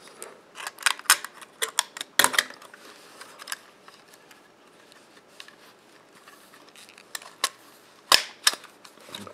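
A part of a vintage Kodak Brownie camera is opened and closed by hand. It makes a series of sharp, close mechanical clicks and snaps in uneven bursts, with quiet gaps between them.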